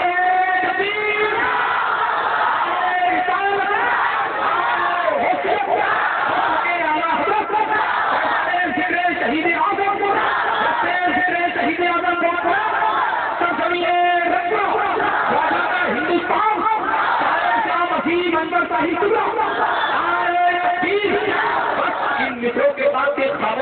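A large crowd at an Urdu religious gathering roars the takbir chant in response, loud sustained massed voices shouting together, with a bright narrow-band quality through a reverberant sound system.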